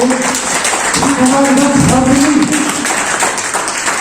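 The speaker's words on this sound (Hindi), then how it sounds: "उनको हम वेलकम करना चाहेंगे जोरदार तालियों से" Clapping from a crowd at a health seminar fills the whole stretch, steady and dense, with a voice talking over it.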